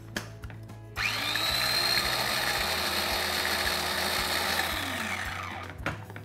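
A blender whirs steadily for about five seconds, blitzing orange and lime hollandaise sauce with a high motor whine that rises on start and tapers as it stops, bracketed by brief clicks and knocks.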